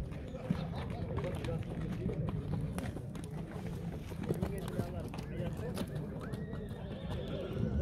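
Horses at the Kara-Jygach livestock bazaar in Aksy neigh and clop amid a dense, steady din of market crowd noise and talking voices throughout.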